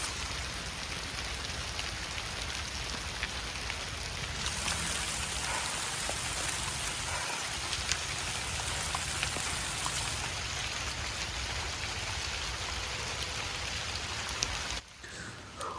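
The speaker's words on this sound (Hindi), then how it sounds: "लगता है बारिश और ओले हमें आज जाने देंगे नहीं।" Rain mixed with hail falling on a Himalayan mountain trek route, a dense, continuous patter close by that holds steady before cutting off abruptly near the end.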